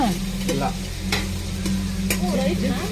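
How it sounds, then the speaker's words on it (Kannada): Ginger garlic paste sizzles in hot oil with vegetables, giving a steady frying hiss broken by a few sharp stirring scrapes and clinks, close and loud, with no talking. "ಶುಂಠಿ ಬೆಳ್ಳುಳ್ಳಿ ಪೇಸ್ಟ್ ಇದನ್ನ ಹಸಿ ಎಣ್ಣೆಗೆ ಹಾಕೋಬಿಟ್ಟು ಇವಾಗ ಹಾಕ್ತಿದ್ದೀರಲ್ಲ"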